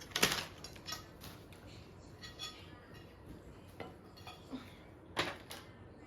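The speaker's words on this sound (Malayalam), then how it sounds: "പ്ലേറ്റ് എടുത്ത് വേണമെങ്കിൽ കയ്യിൽ പിടിച്ചോ." A plate is picked up and handled, giving quiet, scattered clinks and knocks of dishware and cutlery against a soft room background.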